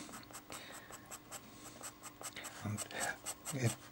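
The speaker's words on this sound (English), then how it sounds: "Now we need to put some shading in." Pastel pencil shading on paper for a cat portrait, a series of soft rhythmic scratchy strokes close up, with a voice talking quietly over the later part.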